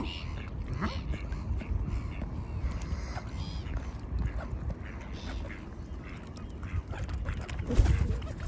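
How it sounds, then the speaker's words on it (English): Duck quacks out in the open near swans at a seed feeding, heard alongside steady low rumble and outdoor noise, with people talking throughout. "leave the duck alone."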